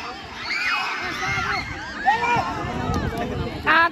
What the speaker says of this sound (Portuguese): A torcida tá eufórica.